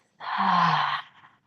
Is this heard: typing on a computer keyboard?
no